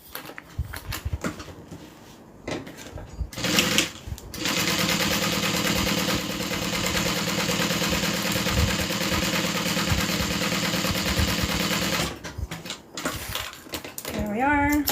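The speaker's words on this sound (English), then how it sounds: "we're going to go ahead and sew that down" A sewing machine stitches pieces of fabric together in one long, steady run of about eight seconds, loud and close, with speech and handling sounds before and after.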